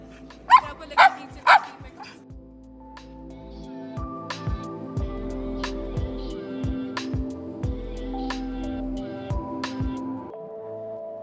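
Three sharp husky barks ring out close by near the start in Shimla, then smaller yips and barks continue over steady music with a beat.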